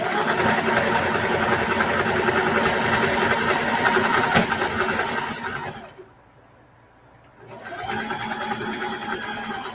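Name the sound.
sewing machine with walking foot sewing a patchwork duffle bag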